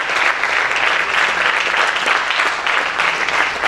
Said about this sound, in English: let's felicitate the professors with a huge round of applause